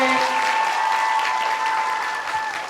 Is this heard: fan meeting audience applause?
yes